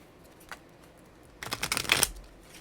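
Tarot cards are shuffled close by, quietly at first and then in a louder burst of crisp riffling and slapping that lasts about a second, with no voices.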